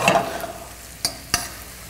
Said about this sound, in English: I wanna let this simmer for about 2 to 3 minutes.